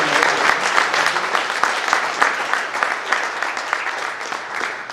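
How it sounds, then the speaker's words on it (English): Dense, steady applause from an audience at a BJP event honouring Shazia Ilmi fills the whole stretch with overlapping claps, loud and close, fading only slightly toward the end with no voices on top. "A loud applause for Ms. Shazia Ilmi."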